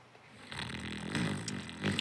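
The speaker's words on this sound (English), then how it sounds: "Kenyon has decided to snore during this question." A man snores close by, a rough, rumbling inhale that swells and repeats, with a brief snort near the end.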